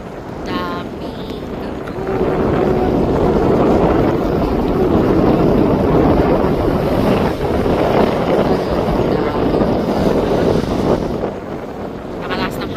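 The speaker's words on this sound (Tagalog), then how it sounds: "Nakalakas ng hangin." Strong wind near windmills by the sea roars and buffets against the microphone continuously, loud and gusty, with a faint hint of open water beneath.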